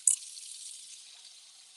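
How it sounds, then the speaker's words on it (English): Hot water runs from a kitchen tap in a steady hiss, loudest in a brief opening gush, then settling into an even, moderately faint stream with no voices. "Just waiting for the hot water."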